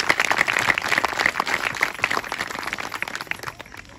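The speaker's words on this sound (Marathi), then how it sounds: "आपण सर्वजण जोरदार टाळ्या वाजवून देवाच्या सेवकांचं स्वागत करूया।" A church congregation in Nandurbar claps loudly to welcome a preacher, a dense burst of applause that starts strong and gradually thins out over a few seconds.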